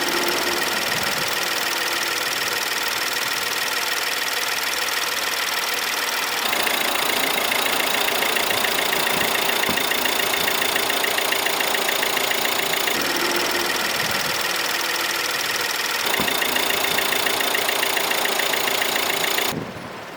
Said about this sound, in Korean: 먼저 엔진음부터 살펴보도록 하겠습니다.